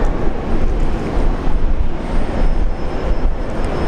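A Bombardier Global business jet takes off from runway 01 right at Brisbane International Airport with a steady, loud, broadband engine roar that holds without letup throughout.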